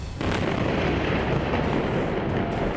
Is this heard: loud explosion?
yes